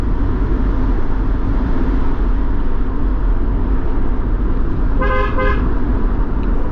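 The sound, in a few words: car horn honking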